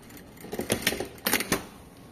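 Sewing machine topstitching a zipper fly: short clusters of quick mechanical clicks and whirring stitches in two bursts, fairly faint against a quiet room.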